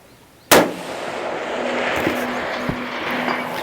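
Single loud, sharp rifle shot from a lightweight Seekins Precision HAVAK PH3 rifle with a muzzle brake, fired outdoors, followed by a rumbling echo and faint distant thuds.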